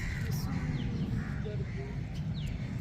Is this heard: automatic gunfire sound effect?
no